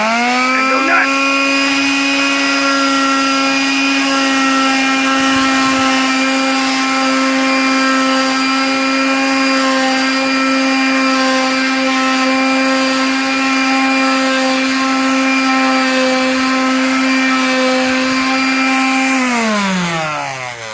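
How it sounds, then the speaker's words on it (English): A power sander runs steadily for about nineteen seconds, smoothing the end of a PVC pipe, with a loud, constant whine that winds down at the end. "we're going to take the handy dandy sander, turn it on, and go nuts"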